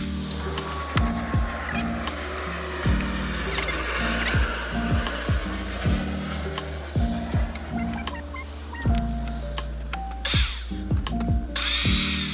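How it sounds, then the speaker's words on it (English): A small power drill with a tiny bit whirs in short repeated bursts, drilling pilot screw holes in wood, revving up and winding down several times, close by, with occasional knocks between. "Got this tiny drill bit to start screw holes so I don't split the wood."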